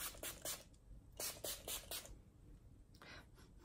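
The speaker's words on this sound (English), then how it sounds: "So I'm just going to go ahead and spray this on my face." A pump-spray bottle of coconut-scented 3-in-1 primer water mists onto a face, several short hissing sprays in two quick clusters followed by a single burst, close and fairly quiet with no talk.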